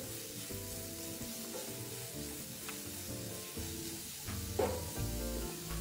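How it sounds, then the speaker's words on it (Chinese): Chopped onion frying in about 60 grams of hot cooking oil over medium heat, a steady close sizzle with stirring scrapes and clinks of a utensil in the pan, and a louder burst near the end. "油热后，倒入备用的洋葱碎"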